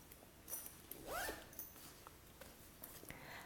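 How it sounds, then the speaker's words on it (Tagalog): A single zipper pulled along a compartment of a black Victorinox nylon briefcase, giving one quick rasping sweep, quiet and close, amid soft handling noise. "it has one zipper type compartment, and the movement is also smooth"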